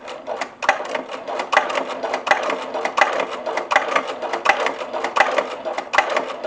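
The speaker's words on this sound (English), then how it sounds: "edge of the bag as close to the edge of this presser foot as I can as I'm stitching it" A sewing machine stitches a leather drawstring pouch in a steady, rapid run of needle strokes, loud and close, with faint regular knocks as it works along the edge.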